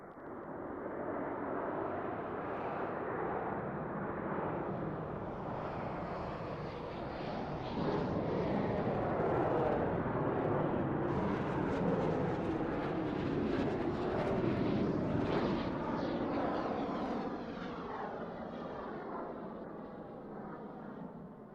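Jet aircraft of an aerobatic team roar steadily overhead in a Roblox game, a loud, continuous engine drone that swells slightly midway and stays unbroken for over twenty seconds.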